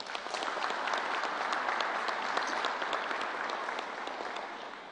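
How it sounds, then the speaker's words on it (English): Steady, moderately quiet applause from a crowd at a government press event about COVID-19 vaccines, an even wash of clapping that tapers slightly toward the end. "Let's give them another round of applause"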